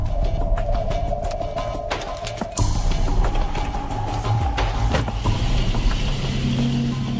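A car drives along a road in Garden City, with a steady, close engine rumble and road noise throughout and a brief shift in tone midway as it changes speed.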